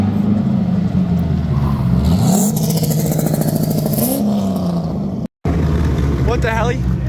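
A motorcycle engine idles with a choppy, uneven lope at close range while people talk loudly over it. There is a brief dropout partway through.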